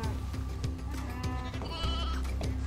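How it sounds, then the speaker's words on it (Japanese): A giant sheep bleats in the video game Final Fantasy XIII-2, its cries repeating over a dense, continuous bed of game music and ambience. "これね、巨大サイズの羊さん。"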